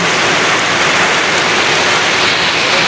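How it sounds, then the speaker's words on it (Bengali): Heavy rain drums down in a dense, even roar, loud and close, with no voices or other sounds breaking through. "কি বৃষ্টি রে বৃষ্টি!"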